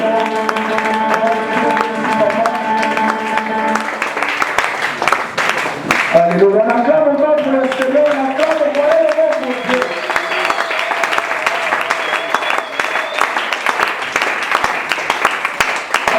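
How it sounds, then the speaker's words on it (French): A church congregation bursts into sustained applause and clapping, loud and close, while an organ or keyboard plays chords and voices sing and call out over it. "Et aussi, nous acclamons."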